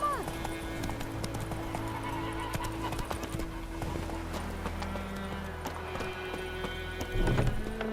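Horse hooves clip-clop at a steady riding pace in The Witcher 3, close and continuous beneath game music and ambience, with a brief louder thump near the end.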